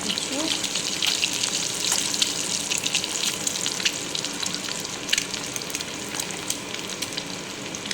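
Cumin seeds and onion frying in hot oil make a continuous close crackling sizzle that holds steady throughout, with occasional sharper pops.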